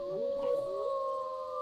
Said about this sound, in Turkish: Hadi bakalım. Ulu bakalım.